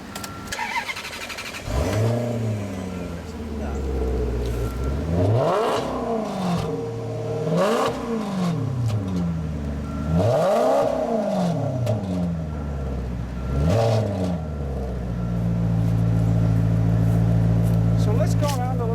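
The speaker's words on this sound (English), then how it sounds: "start up the car just so you can hear that noise that the exhaust makes" A Maserati Quattroporte V8 cranks and catches, then the exhaust is blipped in four or five loud, rising-and-falling revs before settling into a deep, throbbing idle, heard up close.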